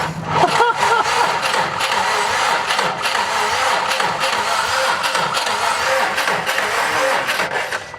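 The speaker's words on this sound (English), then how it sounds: "All right, Ben, go ahead, crank it." A Subaru WRX STI with a cylinder 2 misfire code cranks over in a continuous, even churn lasting about eight seconds, loud and close, with no clear catch or start.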